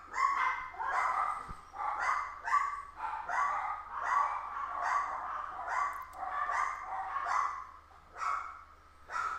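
Dogs bark repeatedly in a steady, rhythmic string of yaps throughout, mid-distance in the background with no talk over them.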